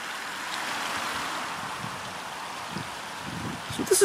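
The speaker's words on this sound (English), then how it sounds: "This is a beautiful little waterfall right next to Tyler Barn." Small waterfall beside an old barn gives a steady broadband rush of flowing water throughout, close and even, with a few faint footsteps and a brief voice at the very end.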